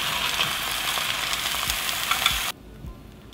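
Caramelized fish frying in a pan, a loud, steady hiss of sizzling fat that cuts off abruptly partway through, leaving a quieter murmur of residual crackling.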